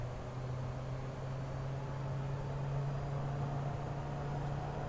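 Pilatus PC-12 NG turboprop engine in Microsoft Flight Simulator held on the brakes and revved toward green torque, a steady loud drone with a strong low hum and broad airy roar, constant throughout with no talking.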